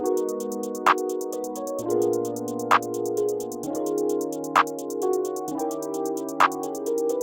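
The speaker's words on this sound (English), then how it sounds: "they make like a double time hi-hat pattern" Rapid hi-hats tick in a fast, busy double-time run over shifting pad chords in a pluggnb beat, with a clap punctuating every couple of seconds.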